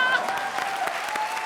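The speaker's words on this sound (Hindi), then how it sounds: "जोरदार तालियां।" Studio audience on a comedy show breaking into loud, dense applause, a brief close burst of clapping with some voices mixed in.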